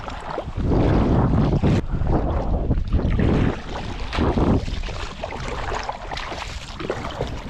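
Strong wind buffets a fishing canoe out on the water during net fishing, roaring loudly against the microphone in heavy gusts with water sloshing beneath, easing somewhat toward the end.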